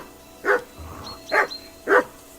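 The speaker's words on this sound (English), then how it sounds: "Get that mutt of yours to stop barking" A dog in the medieval video game Kingdom Come Deliverance 2 gives three loud, evenly spaced barks close by, with no voices over them.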